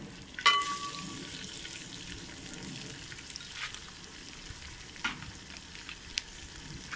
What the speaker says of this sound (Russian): смотрите, как все шкварчит